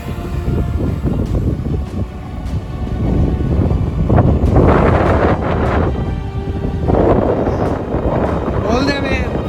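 Strong wind at l'Albufera buffets the microphone with a loud, continuous roar and rumbling gusts that swell and ease, while a person talks over it.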